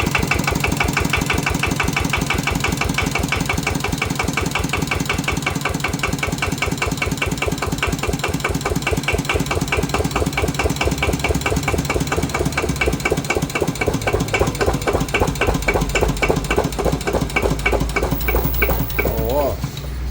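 A Kubota RT100 Plus diesel engine idles close by, a steady rapid chugging knock that runs evenly without pause and with no talking.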